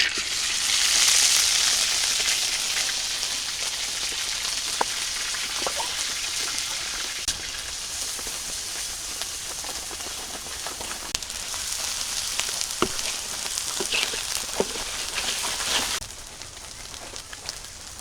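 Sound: ginger, garlic, onion spice paste sizzling in hot pan

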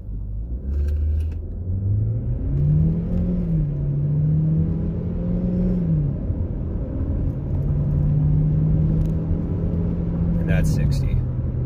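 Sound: 2020 Chevrolet Equinox 1.5L turbo engine revving, accelerating

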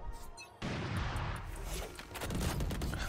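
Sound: gunfire in the video game Valorant

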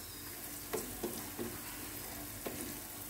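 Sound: sautéing capsicum sabji in a pan

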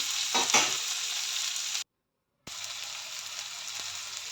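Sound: sprouted moth beans and vegetables cooking in a pan

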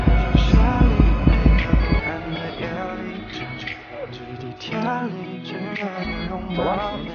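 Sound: heartbeat sound effect

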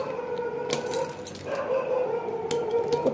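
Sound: dog barking at night

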